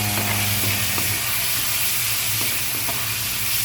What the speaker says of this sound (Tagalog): ilalaglag muna natin yung luya